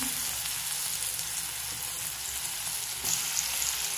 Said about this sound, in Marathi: आता पहिल्या मी टाकते याच्यात लसूण.